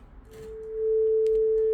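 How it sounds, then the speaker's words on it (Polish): Steady pure test tone from a signal generator playing through an audio amplifier under repair, sounding loud and continuous after a brief faint start, with no speech. "Mam teraz puszczony jakiś tam sygnał z generatora."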